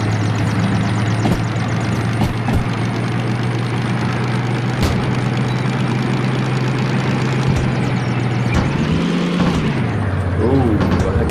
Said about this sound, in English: I did over-rev the engine, or I think I got it up to the red line there